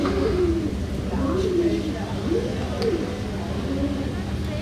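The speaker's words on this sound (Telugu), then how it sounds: "తర్వాత చాలా పక్షులు ఉన్నాయి ఈ రిసార్ట్లో" Pigeons coo in soft, low repeated calls over a steady background hum at a resort in Coorg, several rounded notes spread across the clip.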